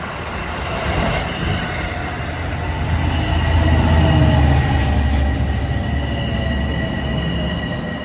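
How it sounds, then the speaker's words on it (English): An LIRR diesel train bound from Oyster Bay to Long Island City passes at Forest Hills, a loud sustained rumble of engine and rolling wagons with faint wheel squeal, building and holding steady throughout. "Here he comes, our last diesel, Oyster Bay to Long Island City"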